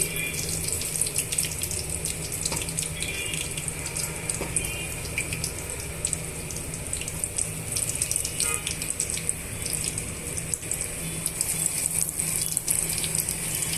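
Mirchi bajji, batter-coated green chillies, fry in hot oil with a steady, close sizzle and bubbling hiss that holds evenly throughout.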